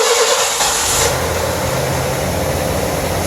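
Ford Mustang engine, sprayed with starting fluid, cranking and catching into a loud, steady running roar that holds close by for a few seconds with no talking.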